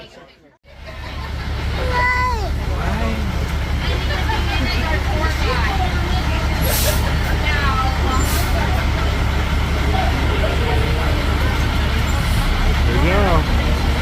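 An open-top safari bus idles and rumbles with a steady low engine drone, while crowd babble and children's voices carry over it and brief airy hisses rise at intervals.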